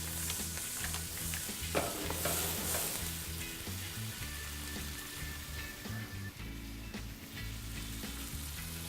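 A pan of tomato sauce being stirred for seafood pasta gives a soft continuous sizzle with low scraping and swishing from the stirring, fairly quiet and close, with no talking.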